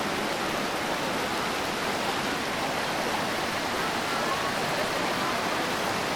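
River flowing at a bathing spot on a trail between Aldeia Velha and Lumiar, a steady, full rushing wash of water that stays even throughout.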